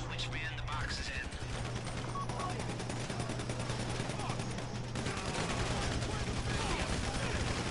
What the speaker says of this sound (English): Bullets, what the fuck?